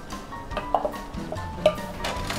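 A spoon pressing soaked glass noodles down into a pot, giving faint scattered clinks and soft scraping taps against the metal over a low bubbling hiss.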